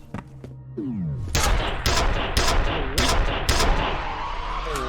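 Gunfire in the shooter video game F.E.A.R.: a string of loud, sharp shots in uneven bursts, mixed with sweeping electronic effects and a rising whine, heavy and close throughout.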